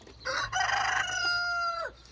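A rooster in a garden with hens lets out a single long, loud crow that rises, holds its pitch and drops away at the end, close by, with faint background clucking and no talking.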